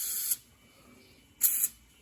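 Two short hissing bursts of Houdini lubricant spray into an MGB car door lock, about a second apart, close and sharp, with near silence between them.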